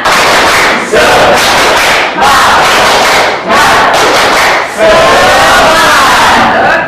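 A secondary school class in Indonesia performs a rhythmic group clapping chant, loud bursts of many young voices shouting together with claps, repeated in four energetic phrases.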